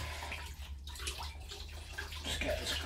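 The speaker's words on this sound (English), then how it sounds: "Just get this cloth, rinse it out." Short burst of water sloshing and splashing as a cloth is rinsed out in a sink, close and continuous, with a low steady hum underneath.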